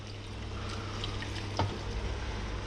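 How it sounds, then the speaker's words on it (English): Water poured into a pan of Maggi noodles with shrimp and broccoli gives a soft, continuous splashing trickle over a low hum, with one brief knock near the middle. "Now I will add half cup of water."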